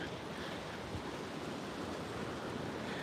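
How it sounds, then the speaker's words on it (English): Ocean waves crash and wash continuously on a lonely Oregon beach, a steady broadband roar of surf with wind buffeting the microphone throughout, no voices. "I decided to take some pictures of the ocean and the waves crashing."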